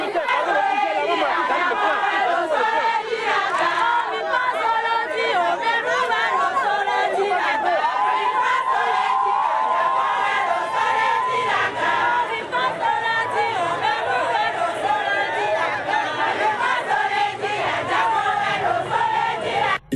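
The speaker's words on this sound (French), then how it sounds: "la population de Lokossa, notamment des femmes et conducteurs de taxi-moto, lui ont réservé un chaleureux bain de foule" A lively crowd of women and motorcycle-taxi drivers in Lokossa greets businessman Sébastien Ajavon, a dense, continuous roar of chatter, cheers and shouts, while a news narrator speaks over it.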